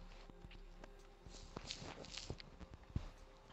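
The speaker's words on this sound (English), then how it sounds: "I'm gonna actually be able to hear footsteps finally in Rainbow Six" Footsteps thud and shuffle irregularly in the tactical shooter video game Rainbow Six, fairly faint with a few louder impacts over low background noise and no talking.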